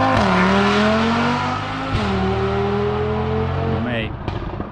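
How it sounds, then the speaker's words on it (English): An Audi RS3 engine with an OPF catches on a cold start and flares to a high idle with a loud, rising growl, settling briefly before dropping back and falling quieter. "We'll get a little cold start on this."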